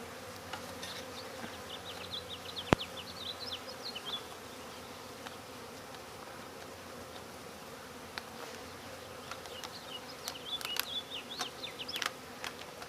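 Honeybees buzz around an opened hive during routine backyard maintenance, a steady, fairly close insect drone with individual bees darting past now and then, louder toward the end, with a sharp click partway through.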